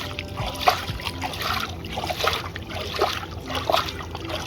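Water trickles and splashes over a large Bagarius catfish caught in the Padma River, with steady pouring and dribbling in a moderate, continuous flow beside a boat.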